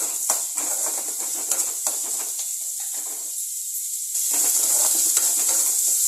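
Chopped onion is stirred through hot oil in a pan, giving a soft sizzle broken by scraping spoon strokes, with a brief quieter gap before the hiss swells louder again.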